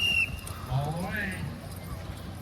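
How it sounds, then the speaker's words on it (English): Horses' hooves clop and thud at an outdoor horse pull at a county fair while a crowd murmurs and a voice talks over the scene. "We're watching a horse pull."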